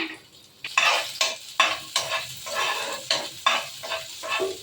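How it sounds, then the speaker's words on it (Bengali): Garlic, onion and green chilli fry in hot oil in a pan, a steady sizzle with a rhythmic run of spatula scrapes and metallic clinks against the pan, close and without speech. "এবারে আমি দিয়ে দিলাম রসুন, পেঁয়াজ আর কাঁচা লঙ্কাটা একটু দিয়ে দিলাম। এটা একটু ভাজা হলে ফিরে আসছি।"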